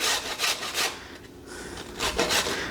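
Carrots are grated on the small holes of a box grater in quick, close rasping strokes, a burst of about four, a short pause, then more scraping.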